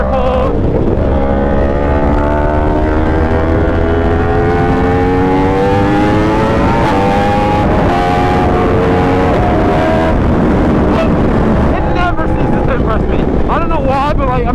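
A sport motorcycle revs hard through rising gear-like engine sweeps while pulling a wheelie on a fast group ride, loud and close with heavy wind buffeting over the microphone throughout.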